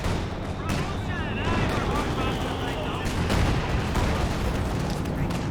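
A gammon bomb explodes in the Company of Heroes 2 strategy game: a heavy blast rises out of dense, loud battle noise, with gunfire and rumbling booms all around and a voice talking over the combat.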